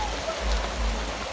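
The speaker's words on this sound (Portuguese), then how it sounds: "Começou a chuva por aqui, pessoal. Muita chuva," Heavy rain pouring down at a rural farm property during a thunderstorm, a dense continuous loud hiss of falling water with no gaps.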